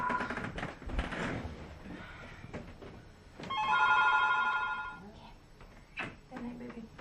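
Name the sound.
telephone ringing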